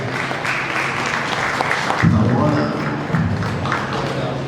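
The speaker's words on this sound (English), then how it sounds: "Give them a round of applause." Applause from an evening community gathering's audience fills the whole stretch, a steady dense patter with a louder swell midway, and voices mingle beneath it.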